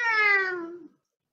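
A house cat lets out one clear, drawn-out meow that falls slightly in pitch and cuts off abruptly, followed by silence.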